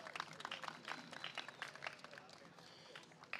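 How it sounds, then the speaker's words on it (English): Faint, distant audience applause at a film-program cast and crew call, a steady patter of clapping running through the whole stretch with voices mixed in underneath. "give her a round of applause"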